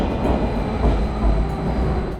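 A Siemens-built Tren Urbano metro train in Puerto Rico rumbles loudly and continuously as it descends from an elevated viaduct into an underground tunnel, heard from inside the car with no voices.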